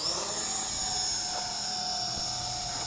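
An FX-8G Master GPS camera drone lifting off, a steady high-pitched rotor whine and whir holding level and close for the whole stretch, with no talk.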